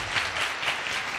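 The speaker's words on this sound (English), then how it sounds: "Can I get a hand clap for these two?" An audience claps for two presenters at a technology workshop, a short burst of dense, steady hand clapping filling the whole moment at moderate loudness.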